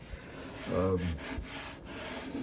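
A steel hand scraper is drawn across cherry wood in a couple of short, rasping strokes, close up and moderately loud, with a soft low hum underneath.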